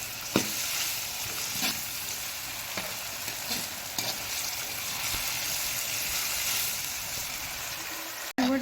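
Onions fry in a pan for qeema karela, a dense, even sizzle with occasional soft knocks of stirring, steady for several seconds and ending in a brief pause.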